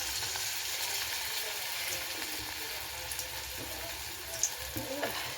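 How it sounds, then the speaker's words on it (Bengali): Fritters (bora) frying in hot oil, a steady close crackling sizzle throughout with a few small pops and clinks near the end. "আর এই দেখো তেলটাও গরম হয়ে গেছে, এবার বড়াটা ছেড়ে দিই"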